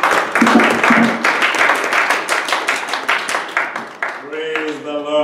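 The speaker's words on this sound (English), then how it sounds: "So clap for Jesus." A church congregation claps together in a loud, choppy burst of many hands that fades after about four seconds. A voice then rises alone, sounding like speech or singing.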